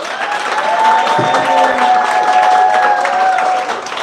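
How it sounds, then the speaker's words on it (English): Steady applause from a large audience at a graduation ceremony, dense and continuous, with a few cheers mixed in. "Let's give them a big round of applause."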